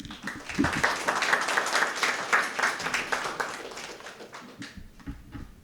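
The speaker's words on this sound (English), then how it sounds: "Let's welcome him with a big round of applause." Applause from a forum audience welcoming a speaker at an Asia Pacific youth environment gathering, building quickly into lively uneven clapping, then thinning out and fading near the end.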